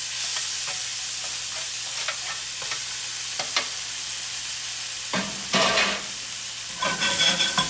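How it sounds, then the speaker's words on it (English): Roasted cherry tomatoes are pressed and crushed into a sauce in a hot iron skillet, a soft low sizzle broken by scattered squishy taps and scrapes, with a few louder crushing bursts near the end. "Tomatoes crushing up"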